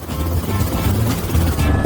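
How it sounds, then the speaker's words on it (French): Helicopter sound effect with a loud, close, continuous rotor thump and whir, steady and chopping without a break for the whole short stretch. "j'ai besoin d'hélicoptère"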